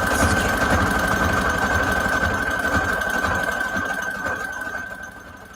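A sewing machine stitches through fabric scraps for a junk journal cover, running at a fast, even mechanical chatter with a steady whine. It sounds close and loud, then slows and fades toward the end.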